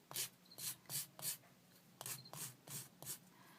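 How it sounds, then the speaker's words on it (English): A recycled paper pendant sanded by hand in quiet, regular back-and-forth strokes, about nine soft raspy rubs with short pauses between them and a slight break in the middle. "It takes a while for the sanding."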